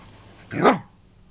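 A pet dog lets out a single short, sharp bark close by, with quiet room tone before and after.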